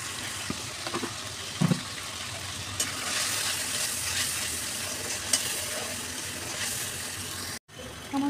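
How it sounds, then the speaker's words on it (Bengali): Spices with chili, turmeric and salt frying in a pan, a continuous hissing sizzle with occasional scrapes and knocks of a spoon against the pan, close and steady, briefly cutting out near the end. "আমার মশলা কষানো হয়ে গেছে।"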